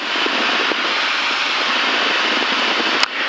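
Engine of a Cirrus light aircraft throttling back on approach, heard from inside the cabin as a loud, steady broadband drone with a brief click near the end.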